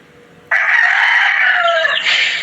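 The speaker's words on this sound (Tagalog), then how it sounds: "Puro na lang manok ang naririnig ko." A rooster crows once, loud and close, a long sustained call following a quiet lead-in, with no talk over it.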